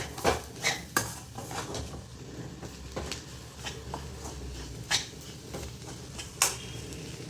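Squid roast with black pepper powder stirred in a pan, a spoon clinking and scraping against the metal in irregular sharp knocks over a soft background hiss, close by, with no talking.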